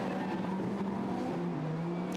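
A Lamborghini Super Trofeo race car pulls away down the pit lane at Silverstone during a race, its engine droning steadily at moderate distance with a tonal whine, loud and continuous.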